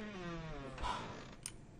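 A door creaks open in a horror video game, a drawn-out, wavering groan that slides downward in pitch, ending in a few faint knocks and clicks.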